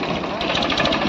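A tractor engine runs steadily while hooked up to drive a threshing machine on a farm, giving a continuous loud, rough mechanical drone with faint voices mixed in.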